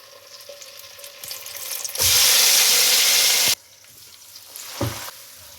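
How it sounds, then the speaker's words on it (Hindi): Marinated chicken drops onto browned onions in a pot for biryani and sets off a loud, sudden burst of sizzling. The burst holds for about a second and a half, then cuts back to a quieter crackle with a stirring knock. "बाकी प्याज में जो हमने ये चिकन को मैरिनेट किया था वो डाल दें।"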